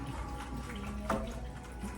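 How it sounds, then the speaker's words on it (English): Water being poured into a pot for lemon meringue pie filling, a soft steady splashing stream heard close and fairly quiet for about two seconds, with no talking. "And this is a total of 6 cups of water."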